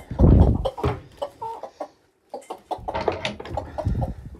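Chickens in a backyard breeding pen cluck in short bursts, fairly close and moderately loud, with varied irregular calls and a brief quiet gap partway through.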